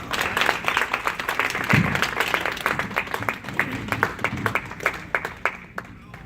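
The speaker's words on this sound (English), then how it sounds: "And parents can continue to give them a round of applause." Parents applaud students at a summer program presentation, a dense, steady round of clapping from a crowd lasting throughout, with talk mixed in underneath.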